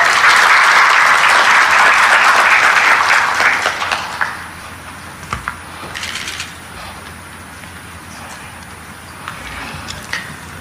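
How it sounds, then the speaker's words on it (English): A ceremony crowd in Arusha, Tanzania, bursts into loud, sustained applause to welcome the Regional Commissioner, fading after a few seconds to scattered claps and ambient murmur. "Could you help me welcome him with a round of applause?"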